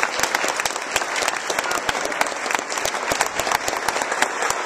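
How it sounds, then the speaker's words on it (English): Steady, dense applause from a large audience at a Nice Ride bike-share event fills the whole stretch, loud and continuous. "can we give him a round of applause?"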